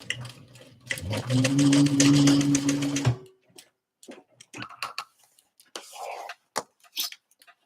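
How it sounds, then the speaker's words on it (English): A sewing machine stitches across the top of a hexagon tote bag in one loud, continuous burst of whirring, then stops and gives way to a scattering of light clicks and handling taps. "Now I'm going to sew across the top of this one again."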